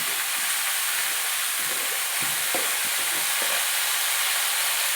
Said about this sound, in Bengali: আমড়াগুলো একটু তেলের মধ্যে ভালো করে নাড়াচাড়া করে নিচ্ছি